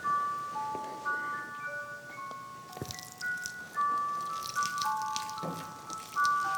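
Water drips and trickles onto a flower in a children's flower-bed scene, with soft irregular drops among faint ringing tones, fairly quiet and without talk.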